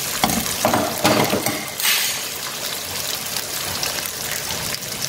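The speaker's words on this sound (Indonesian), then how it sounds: "Dan ini hati ayamnya kita goreng dulu ya guys, ditumis sama ini cabenya sama bumbunya ya" Chicken liver stir-frying with chili and spices in a pan, a steady close sizzle with scraping stir strokes early on, continuous and fairly loud throughout.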